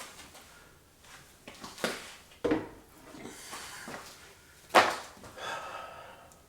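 Chili being stirred in a pressure cooker pot, with soft scraping and rubbing strokes and a few sharper knocks of the spoon against the pot, faint and intermittent.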